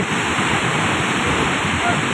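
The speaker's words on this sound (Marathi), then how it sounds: "अतिशय जवळून असं ह्या धबधब्याचं मनोरम असं रूप" Steady roaring rush of the Sahastrakund waterfall, loud and continuous from start to finish, filling the whole clip without pause.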